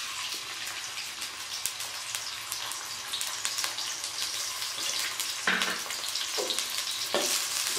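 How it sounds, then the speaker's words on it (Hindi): Sliced onions hitting hot oil for a chicken biryani, a dense crackling sizzle throughout with occasional spatula clatter and a louder burst near the end, no talking. "ऑयल गर्म हो चुका है, अब मैं इसमें डालूंगी प्याज"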